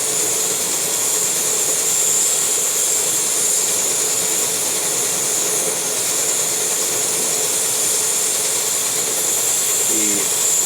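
MSR Whisperlite and Whisperlite Universal liquid-fuel camping stoves burning side by side to boil water, a loud constant roaring hiss that runs unbroken throughout with no talk.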